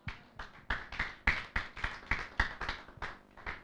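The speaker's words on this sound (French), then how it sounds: "Acclamons pour la gloire de Jésus." A church congregation clapping in praise of Jesus, a steady rhythm of about a dozen sharp claps, fairly quiet and slightly distant.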